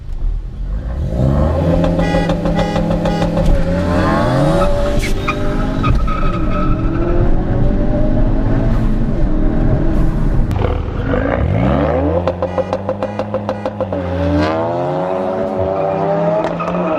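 A 345 bhp four-wheel-drive Ford Focus RS makes a launch-control start: the engine roars loud and close, pitch climbing and dropping through gear changes, with tires skidding and squealing throughout.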